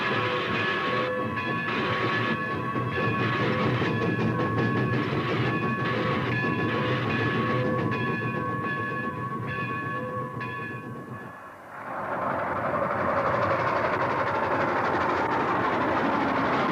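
A train speeds along on curving track, its steady loud rumble and wheel clatter carrying on without pause, with bright tonal squeals and whistle-like tones riding over the noise before a brief dip and a broader roar.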